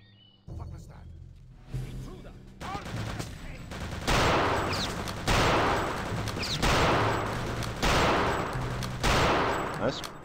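Video game gunfire from Return to Castle Wolfenstein: after quieter clicks and movement, loud bursts of automatic fire repeat in several distinct volleys, close and punchy, with a voice talking at times.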